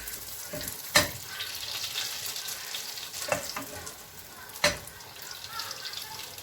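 Butter sizzles and crackles steadily in a pan while cooking ground meat pasta, broken by a few sharp utensil clinks against the cookware.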